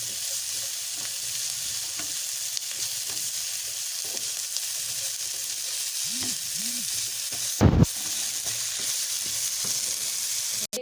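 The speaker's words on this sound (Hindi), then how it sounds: "ये देखें, सिर्फ 1 से 2 मिनट के लिए इसको सौटे करेंगे हम।" Ingredients sautéing in a pan for a panini sandwich filling, a steady, even sizzle running throughout with a brief clatter of stirring near the middle.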